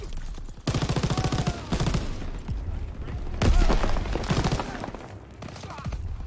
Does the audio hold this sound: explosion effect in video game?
yes